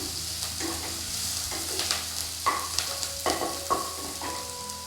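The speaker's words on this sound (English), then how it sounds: "I'll saute it till it turns golden brown." Onions sauté in a pan for a spinach chicken curry, giving a steady hissing sizzle broken by repeated scraping stirs and clacks of a utensil, close and fairly loud with no talking.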